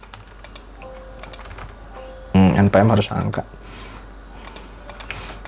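A computer keyboard is typed on in quick bursts of crisp clicks while entering table data in a Java NetBeans program, with a voice speaking briefly partway through.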